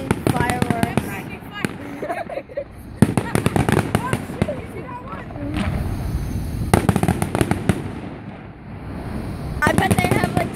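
Volleys of fireworks crack and pop in long rapid strings, loud and fairly close, with short pauses between barrages and people talking intermittently beneath the explosions.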